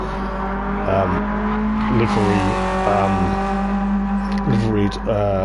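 Renault Megane race cars circle a track in a Gran Turismo 7 BTCC-style race, their loud, close engine whine climbing steadily and then dropping in pitch at several quick gear changes.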